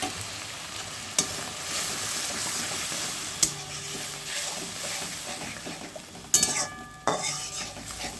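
Prawn shell paste fries and is stirred in a pan, a steady close sizzle with a few sharp clanks of a spatula or spoon against the metal, no talking.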